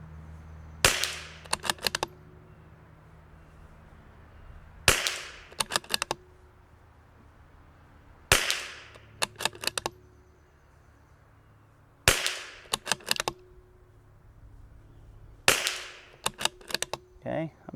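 A CZ457 rifle firing at targets on a range: five sharp, loud shots spaced a few seconds apart, each followed by a quick flurry of bolt clicks and clatter.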